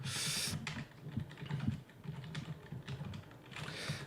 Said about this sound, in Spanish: Vais a escuchar ahora el teclado taladrando.